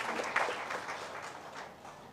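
A rally audience at a political workers' gathering breaks into brief, moderately distant applause, a burst of clapping that quickly fades.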